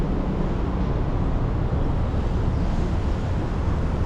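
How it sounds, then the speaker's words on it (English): Steady, low rumbling wind buffets the microphone in Taipei, Taiwan, with light rain falling, a constant roar with no breaks and no voices. "it's super windy right now"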